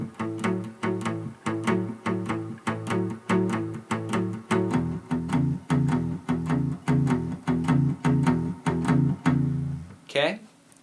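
Electric guitar plays a palm-muted blues figure over two bars of A and two bars of E, repeated choppy plucked notes in a steady rhythm, close and loud, with a brief sound at the very end.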